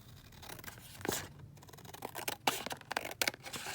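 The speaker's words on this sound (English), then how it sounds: "what I'm going to do is just cut this around here" Scissors cutting around a paper shape on a desk, a series of close, crisp snips and rustles at irregular intervals, with no talk.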